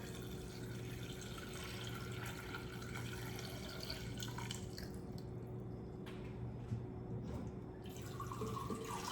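Water is poured in a steady stream for making sea moss juice, a continuous splashing fill that thins into sparse drips and trickles toward the end, close and moderately quiet.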